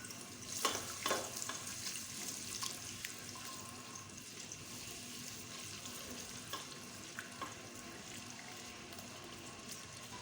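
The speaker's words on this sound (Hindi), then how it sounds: "सबसे पहले प्याज डाल दें। ऑयल हमारा गर्म हो गया है।" Onions dropped into hot oil for mutton saag gosht: a steady, close frying hiss runs throughout, with a few sharper crackles and utensil taps near the start.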